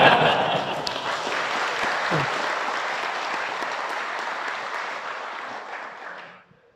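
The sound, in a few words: audience applause at a religious lecture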